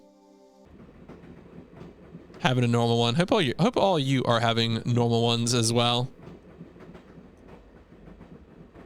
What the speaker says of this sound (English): All right, so anyway, we're on a train.